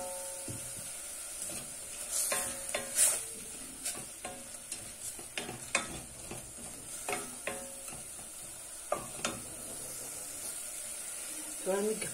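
Onions frying in a pan for a Kabyle dish, a quiet ongoing sizzle broken by frequent scraping, stirring clatters of a utensil against the pan, close by.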